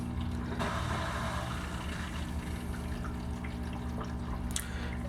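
A steady low hum of a Sunsun HW-303B canister filter pumping water into an aquarium runs throughout, with faint trickling water layered on top, constant and close.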